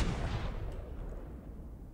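Cannon fire in the ARK survival video game: a single dense, rumbling blast that decays over about two seconds, loud and close with no talk.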